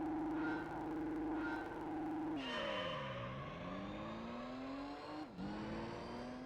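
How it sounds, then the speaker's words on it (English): Shelby Cobra engine in the Gran Turismo 3 racing game, a loud continuous drone that drops in pitch, climbs steadily as it revs up, then briefly dips near the end before rising again, with no talk. "I like how this Shelby sounds."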